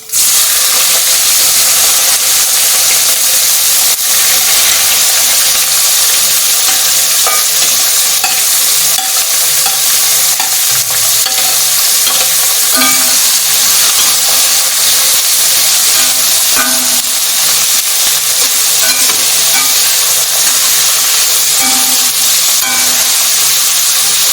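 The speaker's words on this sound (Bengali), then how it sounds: "এবার আমি এই পেঁয়াজগুলো তেলের মধ্যে দিয়ে দিচ্ছি" Onions dropped into hot oil for a Bengali chicken kosha, frying with a loud, constant hissing sizzle up close, with occasional clinks and scrapes of stirring throughout.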